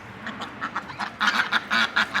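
Backyard ducks kept beside chickens in a December garden quack in quick, loud bursts. The quacks come close together and grow busier toward the end.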